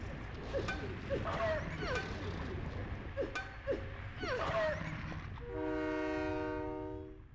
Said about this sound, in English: Nope, I'm gonna get hit by a train again